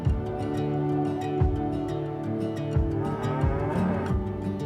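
Dairy cows moo repeatedly on a farm in the Otways, several long lowing calls overlapping close by and loud, with no talking.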